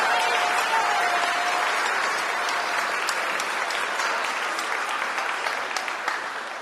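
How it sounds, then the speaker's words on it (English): Sustained applause from a school concert audience for a middle school band, a dense even clapping wash that holds steady throughout and tapers only slightly near the end. "another big round of applause, please, for our Brownstone band"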